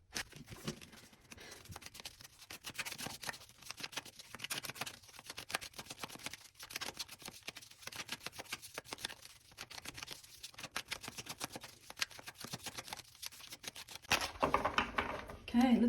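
Tarot cards from a pulp-themed deck being shuffled by hand, sped up into a dense, continuous stream of rapid papery riffles and flicks, close and fairly quiet, growing slightly louder near the end.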